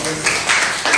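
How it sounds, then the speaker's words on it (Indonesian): Brief applause for a student in a junior high school classroom in Indonesia, with bursts of clapping from the class close by and no voices over it. "Tepuk tangan buat Aisyah."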